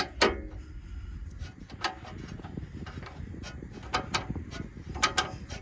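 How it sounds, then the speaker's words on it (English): A wrench works on hitch bolts inside the bumper of a Dodge B van, making irregular metallic ratcheting clicks and knocks with a few sharper taps, close and moderately loud, without talk. "In this bottom bolt, we got to have the wrench inside the bumper."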